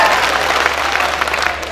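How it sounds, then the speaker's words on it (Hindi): Audience clapping at an Urdu-Hindi mushaira poetry recital, a dense, steady wash of hands under a raised crowd murmur, loud and close throughout. "तो पूरा मजमा तालियां बजा के मुझे इजाजत दे"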